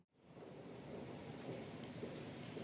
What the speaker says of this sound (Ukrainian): Ось така у нас погодка, дощова осіння.